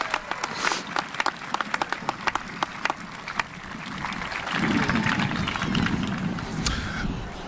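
A high school graduation audience applauds, first with scattered sharp claps close by over a broad crowd wash, then swelling into a fuller, denser roar of continuous applause.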